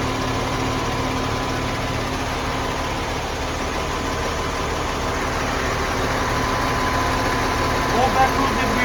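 A crane's engine runs steadily at a low idle-like rumble during setup as the back wheels are raised off the ground, a constant mechanical drone with a few faint clicks near the end.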